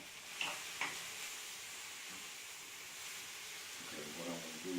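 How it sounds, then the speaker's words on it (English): Mushrooms sauté in a pan with a quiet, even sizzle and a couple of faint utensil taps, the soft frying hiss running steadily throughout. "just saute it until the mushroom becomes soft"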